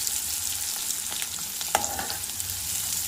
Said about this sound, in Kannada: ಈರುಳ್ಳಿ ಹಾಕಿ ಕರಿಬೇವು ಹಾಕಿ ಫ್ರೈ ಮಾಡ್ತಾಯಿದ್ದೀನಿ.